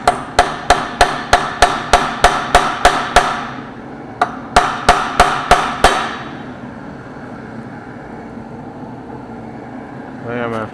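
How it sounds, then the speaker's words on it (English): Hammer striking a chisel to split a weld on cast iron during a John Deere 530 tractor overhaul: two runs of loud, evenly spaced metallic blows, about a dozen then five, each ringing briefly, followed by quieter background. "I done went and got a bigger chisel and swung the hammer a little harder, and it did split the weld there"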